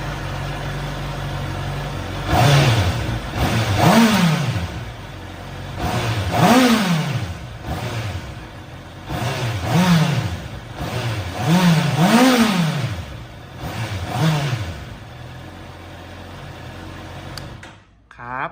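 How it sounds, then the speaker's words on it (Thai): A 2020 Honda CBR650R sport motorcycle with about 8,700 km is revved repeatedly, roughly six sharp throttle blips rising and falling over a steady idle, loud and close, with no talking. "ผมจะทำการเบิร์นให้ฟังนะครับ"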